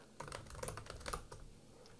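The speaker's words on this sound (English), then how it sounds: "you can type in here" Quick, close typing on a computer keyboard, a few seconds of crisp overlapping key clicks with no speech.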